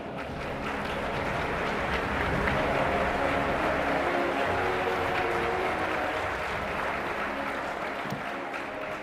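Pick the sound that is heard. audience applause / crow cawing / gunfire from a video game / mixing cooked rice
audience applause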